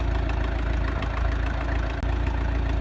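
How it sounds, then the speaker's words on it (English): Farm tractor engine idling steadily in a cattle pasture during round hay bale feeding, a continuous low rumbling drone with a faint knocking pulse, close and unbroken. "I think I'll turn the tractor off and wait."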